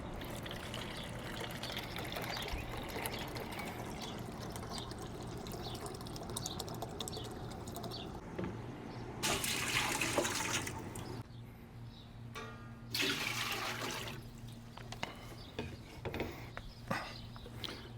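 Water poured into a pot for pickling brine while making refrigerator pickled pepperoncinis, a steady close trickle and splash with two louder gushing bursts midway, over a low kitchen hum.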